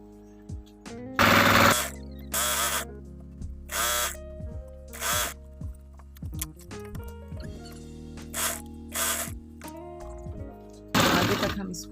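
A sewing machine stitches trousers with elastic, running in repeated short bursts of rapid mechanical whirring separated by pauses, with a voice talking between and over the runs.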